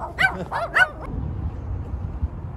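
Small dogs let out a quick burst of high, yappy barks near a Tucson street skating spot, then fall quiet, leaving low outdoor background noise.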